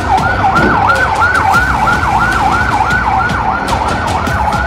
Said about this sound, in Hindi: इस अस्पताल के बाहर एक के बाद एक एम्बुलेंस फ्लैश लाइट जलाकर पहुंचती है।